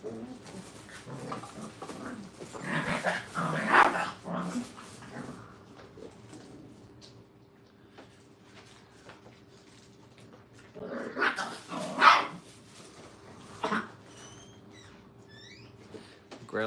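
Young puppies at a dog training kennel barking and growling in two short bursts separated by a quiet pause, fairly close, with faint bird calls in the background.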